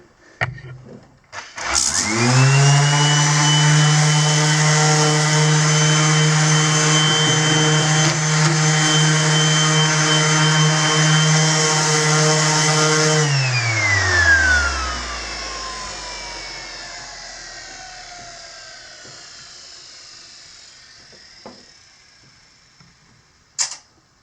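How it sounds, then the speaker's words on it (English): A power sander runs on wooden stairs being restored, a loud steady whine with a strong tonal hum that starts abruptly, holds for about twelve seconds, then winds down with a falling pitch to quiet. "is just a little sanding with the sander"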